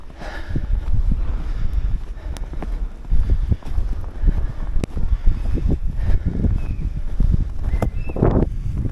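Strong winter wind in Yozgat, Turkey, buffets the microphone in rough, continuous gusts, with rumbling low thumps and occasional faint rustling.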